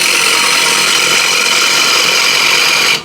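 A scraper cutting into a wooden bowl spinning on a lathe gives a loud, steady, close hissing scrape that holds constant and then stops abruptly just before the end.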